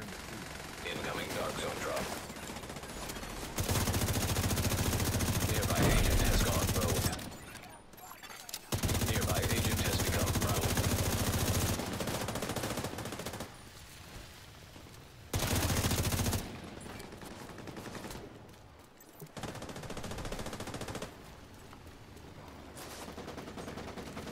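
Gunfire in the online shooter Tom Clancy's The Division 2, with loud sustained automatic bursts broken by short gaps, under excited team voice chat.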